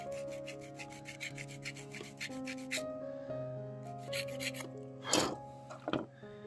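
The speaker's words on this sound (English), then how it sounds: "let's just do a little bit of scraping, of course, because we need to get at least some level surface" Hand scraping on a model car part to level its surface for a Gaslands trash build, heard as a few short rasping strokes near the end over soft background music.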